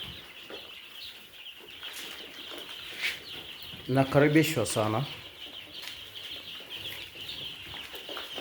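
Young chicks in a brooder with feed and water keep up a steady, shrill chorus of cheeping throughout, with a brief stretch of speech in the middle.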